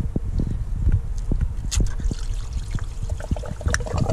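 Coolant dribbling and splashing out of a car's thermostat housing after the hose is pulled, an uneven liquid pour with small drips and knocks close by, no talking.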